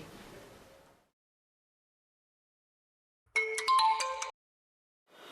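After a moment of silence, a phone ringtone plays one short electronic melodic burst, clear and close, with brief noise at the start and end.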